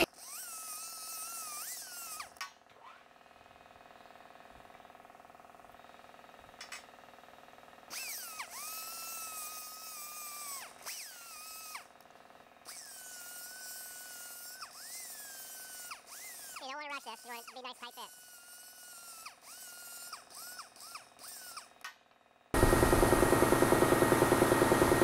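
A body hammer being ground and tuned with a power tool: a steady whining spin comes and goes in several separate runs, then a loud, harsh grinding burst closes it out.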